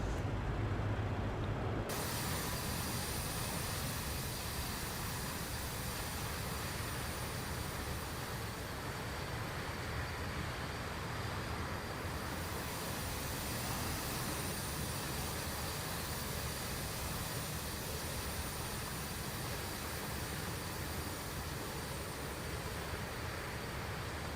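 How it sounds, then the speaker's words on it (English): Steady, continuous jet engine roar of a BAe 146 airliner in the X-Plane 12 flight simulator, a broadband whine and rumble held evenly throughout with no talking. "We could make the engine sounds a bit louder, but then probably you won't be able to hear me"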